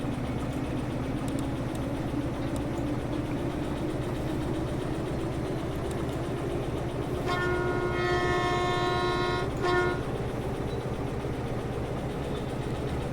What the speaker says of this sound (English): Take the brakes off. Reverser forward. Train forward.